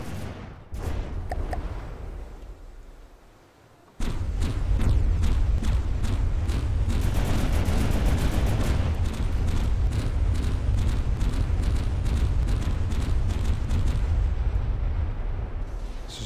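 Heavy cannon fire from quad 250mm guns in From The Depths, a dense, rapid barrage of booming shots with a low rumbling roll, loud and sustained after a brief quieter lead-in.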